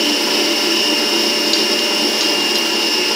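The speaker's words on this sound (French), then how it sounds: "On fait attention avec le batteur." An electric hand mixer whirs continuously at high speed while beating rose-flavored macaron batter, a steady, loud, close motor whine with no pauses.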